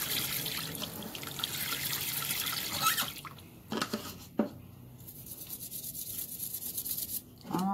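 Dental instruments are washed with water, heard as running and splashing water with drips, scraping rubs and occasional sharp metallic clinks, all close up and without talk.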